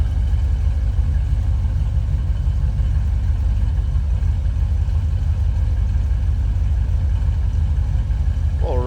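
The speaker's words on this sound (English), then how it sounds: "A little rumble coming out of that crate 350." A 1976 Chevrolet Corvette's crate 350 V8 engine idles with a deep, steady rumble close by, a continuous low throb with no talking.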